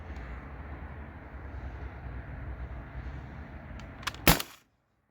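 A modified T4E HDB68 paintball-style pistol powered by an HPA tank fired over a chronograph, one sharp nearby crack with a brief tail after a low steady background hum.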